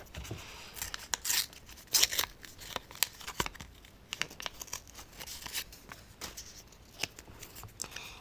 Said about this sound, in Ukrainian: Рвемо пакетик і відкриваємо.